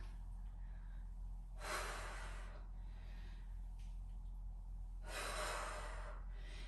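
A person breathes heavily during bodyweight squats: two strong, close exhalations about three and a half seconds apart, each lasting around a second, with quieter breaths between over a low steady hum.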